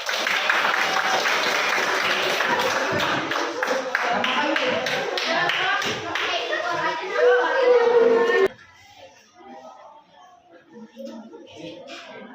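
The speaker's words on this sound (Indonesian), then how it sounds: "Kita kasih aplaus" A class audience gives sustained applause for about eight seconds, loud and dense with overlapping chatter, before it stops and quieter room talk continues.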